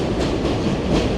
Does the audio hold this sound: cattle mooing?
no